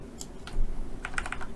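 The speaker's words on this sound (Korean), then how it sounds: "타이핑하겠습니다" A few quick taps on a computer keyboard while building a spreadsheet exercise, sparse close keystrokes over a quiet room background.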